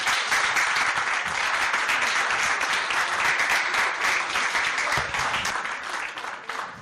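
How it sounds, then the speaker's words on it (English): A patient education session audience breaks into loud, sustained applause for the doctors, dense clapping that fades slightly toward the end. "A huge round of applause for our doctors"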